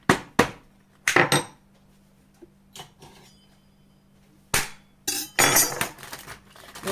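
Sharp, irregular pounding blows of a meat tenderizer on meat on a hard kitchen surface, several in quick clusters separated by quiet pauses, close and fairly loud.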